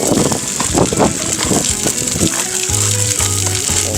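Onions, jalapeños and chilies sizzle and fry loudly on a flat-top griddle beside smash burgers, a dense crackling hiss with bursts of scraping and stirring, joined near the end by a low steady hum.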